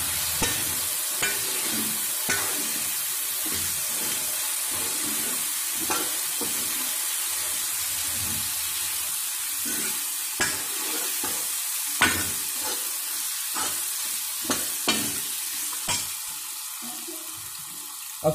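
Chili powder, coriander powder and garlic paste stirred together in a hot kadhai for tinda sabzi: a steady sizzle runs throughout, broken by repeated scraping spatula strokes at close range, with no talking.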